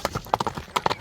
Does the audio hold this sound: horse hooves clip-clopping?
yes